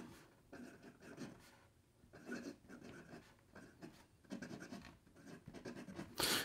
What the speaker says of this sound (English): I find that this medium stainless steel nib has a decent amount of feedback to it, kind of a nice feedback to it.